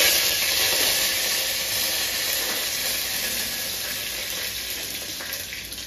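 Cumin seeds and curry leaves frying in hot oil for a diet khichdi: a loud, continuous hiss and sizzle heard up close, fading slightly toward the end, with no voices.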